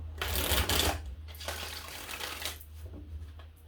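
Tarot cards are shuffled in a few quick rustling bursts, soft and close, with brief pauses between riffles and a low hum underneath.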